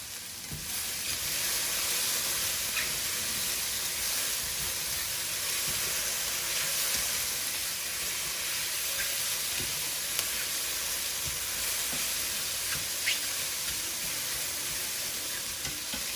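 Garlic frying with mushrooms, rosemary and thyme in a pan, giving a steady close sizzle with faint stirring clicks throughout, no voices.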